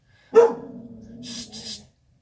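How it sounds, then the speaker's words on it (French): Dog barking at a visitor arriving at the house: one sharp close bark that trails into a growl-like whine, followed by two short, breathy huffs. "Mon chien m'a averti tout de suite."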